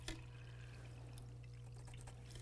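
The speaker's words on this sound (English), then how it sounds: "So I'm going to pour in 500. And this is just 500 milliliters of water." Five hundred milliliters of water are poured into a container for a chromatography experiment, a faint, steady trickle over a low constant hum, with no talking.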